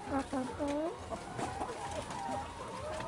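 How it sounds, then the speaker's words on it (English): A hen and her three baby chicks cluck and cheep up close in a farm setting, with short repeated calls overlapping, and a person talks in between. "Yep, she has three baby chicks."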